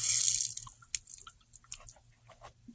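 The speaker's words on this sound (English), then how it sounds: "we're going to let the water run out" Water running and dripping out of an opened valve on a dirty household water filter housing as pressure is relieved, a brief splashy gush at first that thins into scattered drips and trickles, close by.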